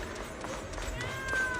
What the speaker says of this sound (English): Oh, that's a loud-ass cat.